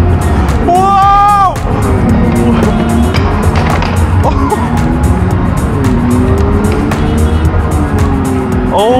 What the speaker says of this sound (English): It even makes noises, this electric thing.